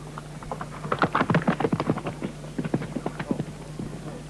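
Hoofbeats of a horse under a rider during jumping and flatwork training, a steady series of clip-clop strikes at moderate distance, alone without talk.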